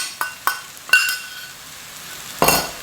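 Curry paste frying with browned onions in a pan for chicken curry: a few sharp utensil clinks and scrapes near the mic, then a soft sizzling burst near the end.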